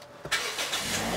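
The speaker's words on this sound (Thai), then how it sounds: "เบรกกดพุทธสตาร์ทได้เลย" A 2017 Toyota Altis 1.8G sedan fires up by push-button start: a short starter crank catches abruptly into a steady, close engine idle with no voices.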